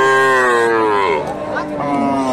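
A dairy cow lows at a busy cattle market, one long sliding moo loud and close, with market chatter faintly behind it.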